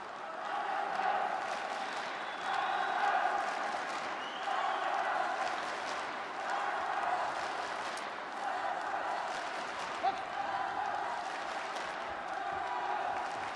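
A home crowd cheers and claps through an Olympic qualifying boxing bout, a steady moderate roar of voices with scattered applause in a large hall, under commentary.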